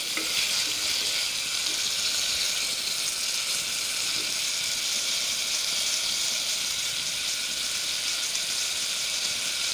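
Beef pieces washed with turmeric fry in a pan for a beef gravy, giving a loud, steady, dense sizzle and crackle that holds evenly throughout without pause.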